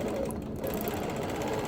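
A sewing machine stitches quilted feathers in a steady, continuous run, close and loud with a dense mechanical whir and no talking.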